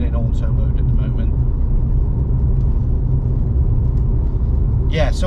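Renault Clio IV RS with a hybrid turbo and stock back box cruising in auto mode, heard from inside the car as a steady low engine and road drone, with talk over it.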